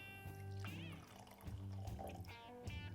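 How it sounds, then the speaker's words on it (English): Whisky pouring into a glass from an advent calendar sample bottle, a short gurgling liquid stream with small splashes and drips lasting a few seconds, close and fairly quiet. "And that was a pretty good pour."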